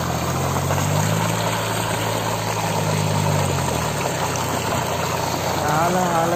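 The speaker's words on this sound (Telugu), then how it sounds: "మోటార్ ఉంది, కరెంట్ మోటార్." An electric motor drives the water pump at a farm well beside paddy fields, giving a steady low mechanical hum with strong harmonic drone that shifts and thins partway through, under broad outdoor noise.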